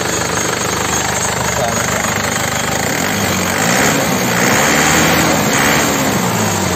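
A black 2011 Isuzu Panther Grand Touring diesel is revved, and its engine gives a loud, steady drone that swells and roughens midway through before easing back, close up with no talk over it.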